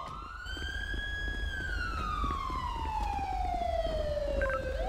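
A police car siren in the FiveM game wails steadily over a low engine rumble, one long tone sliding slowly downward, loud and close with no talk.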